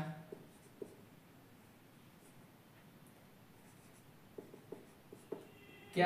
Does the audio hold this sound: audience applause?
no